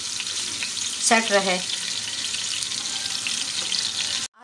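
Onions and whole garam masala with broken bay leaves fry in hot oil for a pulao biryani, giving a steady close sizzle with a brief burst of stirring clatter near the start.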